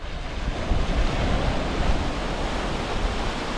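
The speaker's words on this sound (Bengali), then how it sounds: "অনেক দূর থেকে ঢেউ উঠে আসছে না, দেখুন।" Steady roar of sea waves surging onto a beach at the Bagda–Dublagadi twin sea beach, a broad continuous wash with some wind rumble and no talk.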